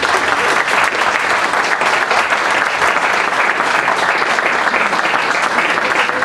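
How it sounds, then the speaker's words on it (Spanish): Strong applause from a conference audience at CCH Azcapotzalco greets the next guest, a loud, dense, even wash of many hands clapping that runs unbroken throughout. "pido un fuerte aplauso, por favor"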